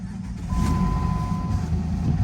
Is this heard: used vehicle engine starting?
yes